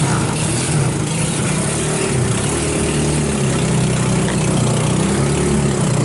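The small engine of a salvaged off-road go-kart running after a carburetor repair, a loud, steady, close chugging idle that holds throughout with no talk.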